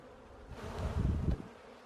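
Buckfast honeybees hum steadily close by at a hive in autumn, a low dense buzz that swells briefly in the middle and then eases back.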